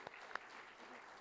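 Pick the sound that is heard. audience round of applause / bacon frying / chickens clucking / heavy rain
audience round of applause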